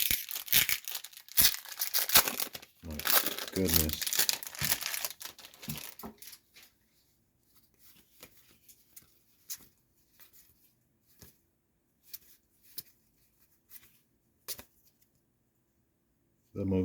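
Plastic and cardboard wrapping on a Magic: The Gathering collector box crinkles and tears by hand, dense and close for about six seconds, then gives way to sparse taps and rustles. Someone speaks briefly.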